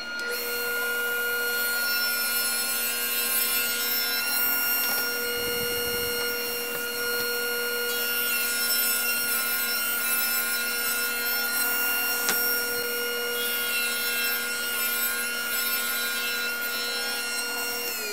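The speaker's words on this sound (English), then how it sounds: "We have a combination blade in our saw." A table saw with a combination blade cuts through wood, a steady loud whine with a dust collector running throughout, the pitch dipping briefly twice as the blade loads in the cut.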